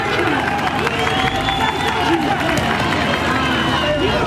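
A boxing crowd at a Filipino-versus-Russian bout cheering and roaring, a constant loud wash of voices and whistles with a commentator talking over it throughout.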